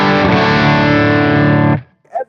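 Victory MK Overdrive guitar amp cranked to high volume, a loud saturated distorted chord ringing about two seconds before being cut off, followed by a brief voice.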